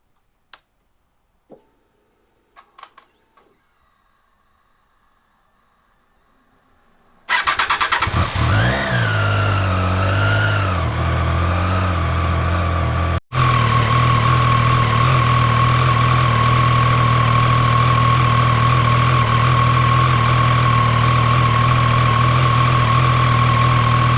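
A Triumph Trident 660 motorcycle is started after a few quiet clicks and handling sounds, catching with a brief rev, then settling into a loud, steady close idle that holds to the end.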